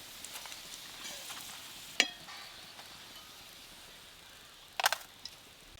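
Soybean omelettes fry quietly in a pan with a faint, steady sizzle, broken by a sharp clatter near the start and another cluster of clinks toward the end.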